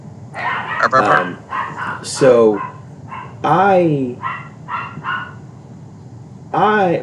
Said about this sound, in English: There goes my dogs again.